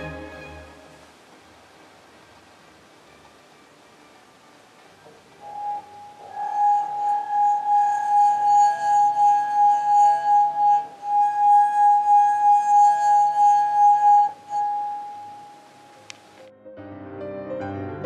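A wine glass sings as a water-wet finger rubs around its rim, holding one steady, pure ringing tone with faint overtones for several seconds before it breaks off, alone with no talk.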